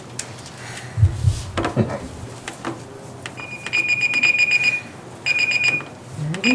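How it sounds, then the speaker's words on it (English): An electronic alarm goes off in a city council chamber with bursts of rapid high beeping that stop and start again, amid rustling, knocks and brief voices. "I must have shut the alarm off."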